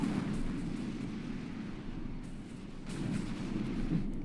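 Crossfire at a military training exercise on a route at the National Training Center, with tanks engaged: a low, rumbling barrage of distant shots and booms rolling on continuously, faint and far off.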